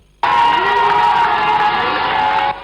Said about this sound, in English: crowds were seen in a neighborhood of the capital Libreville, cheering as soldiers passed by